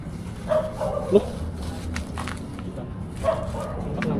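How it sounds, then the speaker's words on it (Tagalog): Dogs yip and bark intermittently in a noisy setting, a few short barks over steady background hum, with voices talking nearby. "Ang daming aso."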